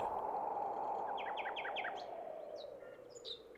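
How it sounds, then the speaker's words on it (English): Several birds chirp and trill in quick repeated notes over a steady background hum, fairly faint and somewhat distant. "the singing of birds"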